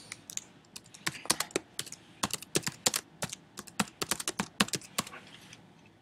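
Quick, uneven clicks of keys on a computer keyboard, close and clear, tapping in bursts with brief pauses and no voices.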